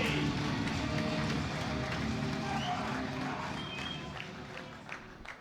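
Crowd at a bench press championship, a sustained roar of cheering and clapping from the audience that slowly fades across the clip, with some voices mixed in.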